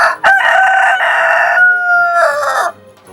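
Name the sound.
cartoon rooster crowing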